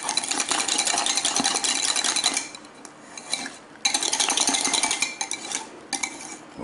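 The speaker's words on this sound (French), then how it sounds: "On mélange." A spoon scrapes and clinks around a pot while chocolate pastry cream is stirred, with rhythmic metallic scraping that pauses briefly near the middle before resuming, close and alone.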